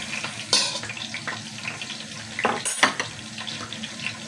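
Tofu (tokwa) sizzles in a hot pan for beef afritada, a steady frying crackle with brief louder bursts of splashing and scraping near the middle, no voices.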